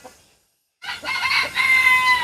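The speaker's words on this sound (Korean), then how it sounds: "뭐 무더운 폭염에도 아주 닭들은 잘 지내고 있는 것 같습니다" Farm chickens in summer heat give close, loud clucks and squawks after a moment of silence, with a thin high bird call running underneath.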